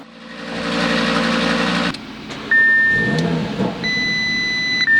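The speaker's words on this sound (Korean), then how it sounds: "예열이 안 돼서 맥시멈 엔진 스피드가 5500rpm으로 고정시켜 놨습니다." A 400-horsepower Audi RS3 five-cylinder engine revs up loudly and close, holding a high drone before cutting off, followed by cabin warning beeps and chimes.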